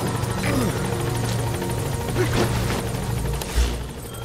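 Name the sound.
support helicopter arriving, from video game Metal Gear Solid V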